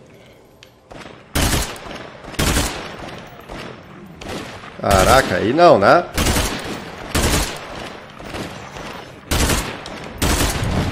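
Repeated loud gunshots from State of Decay 2 gameplay, fired in a steady series of separate bursts roughly a second apart, with a player speaking briefly amid the shooting.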